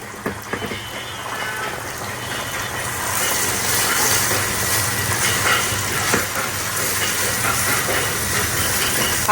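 An egg frying in a hot pan for fried rice gives a loud, steady sizzling hiss that builds after a few brief clatters and holds to the end.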